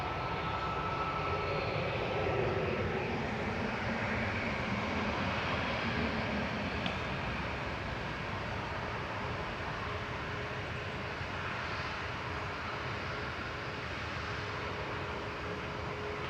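A holiday airliner departs Manchester Airport with a continuous, even jet roar that sustains across the whole stretch, heard at moderate distance with no talking over it.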